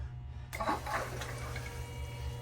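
A Desert Fox spiral gold panning wheel with its catch tray starts up after a brief silence, then water splashes and trickles steadily through it at close range.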